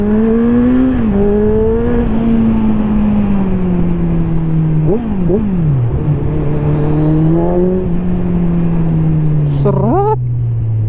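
A Kawasaki Z1000R motorcycle accelerates hard from the rider's position, its engine note climbing through gears with sharp shifts and brief dips, loud and close with wind rush, while a rider's voice breaks in now and then.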